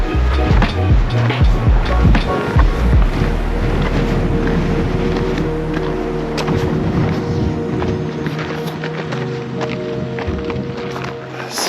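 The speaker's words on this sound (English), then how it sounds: "It's very windy." Strong gusting wind buffets the microphone outdoors at Aoraki Mount Cook on the walk toward a glacier viewpoint, a loud continuous rumble and roar that surges and eases without pause.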